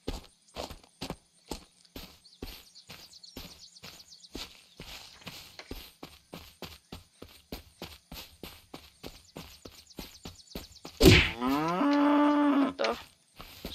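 A cow in the video game Unturned lets out a loud, drawn-out moo near the end, following a long run of steady rhythmic footsteps that tap evenly through the scene.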